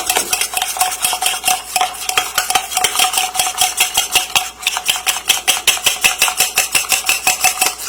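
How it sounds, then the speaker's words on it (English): A spoon grinds sugar into espresso for Cuban coffee in a cup, making fast, steady, rhythmic scraping and clinking strokes that sound loud and close, with no talking. "I'm just grinding it in, breaking the sugar down, mixing it with the coffee"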